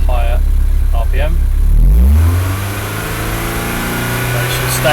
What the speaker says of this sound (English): If we rev the engine up to higher RPM